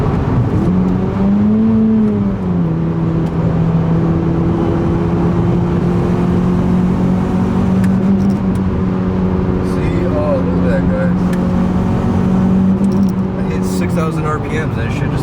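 An Acura TSX fitted with a custom 3-inch exhaust and a Weapon R header revs steadily, its engine drone rising and falling loudly and continuously for the whole span, with no pauses.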